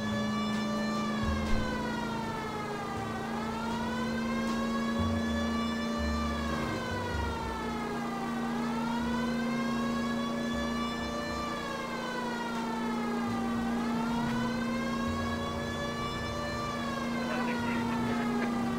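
A police siren wails in the video game L.A. Noire, slowly rising and falling in long sweeping cycles that run steadily for nearly twenty seconds over a constant engine drone.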